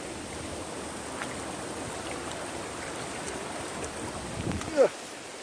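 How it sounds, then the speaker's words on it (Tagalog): Steady rushing water flows continuously at moderate level, a broad even wash with faint outdoor noise and a small bump near the end. "Ayan yung ilog."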